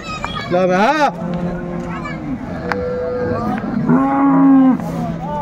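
A dairy cow at a cattle market moos several times at close range, strong wavering calls with pauses between, while people talk around it.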